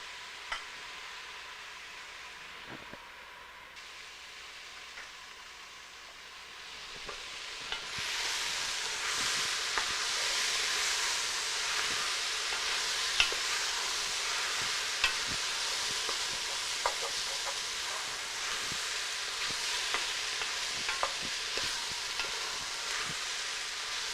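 Food sizzles and fries in a pan over medium heat, the hiss building louder partway through, with scattered light clicks and scrapes from occasional stirring.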